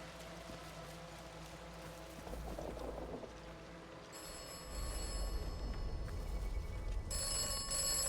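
In the video game Atomfall, a telephone rings with a faint electronic tone that starts partway through and then repeats more strongly near the end, over quiet rumbling ambience.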